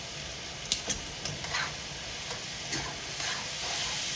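Leftover stir fry with honey is stirred in a hot pan, steady soft sizzling with a few light scraping and clicking taps from the utensil.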